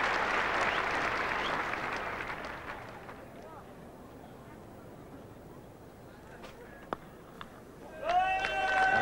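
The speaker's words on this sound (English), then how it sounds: "a very relieved cheer from all his fans around this Old Trafford ground" A cricket crowd at Old Trafford applauds and cheers during the 1981 England v Australia Test, clapping loud at first and then fading to a low murmur, with a brief burst of noise near the end.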